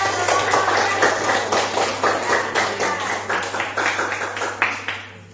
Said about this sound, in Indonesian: Ya, kasih aplaus kepada